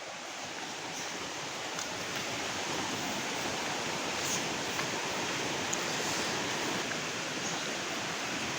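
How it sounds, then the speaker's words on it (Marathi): A steady, dense roar of rushing water, broad and unbroken throughout, a river swollen by rain flowing nearby with no voices. "थोडं पाणी आलंय त्याच्यामुळे आवाज ऐका"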